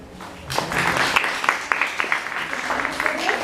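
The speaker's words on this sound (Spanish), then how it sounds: "Damos un aplauso." An audience applauds steadily after an academic presentation, a dense patter of many hands clapping that rises quickly and holds at a fairly loud level.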